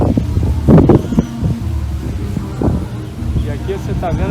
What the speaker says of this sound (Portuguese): E aqui você tá vendo que tá ventando pra caramba